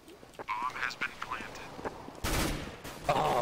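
Counter-Strike CSGO match with bursts of gunfire and headshot hits, loud broadband shots in the second half, over earlier quieter game effects and chatter; voices talk throughout.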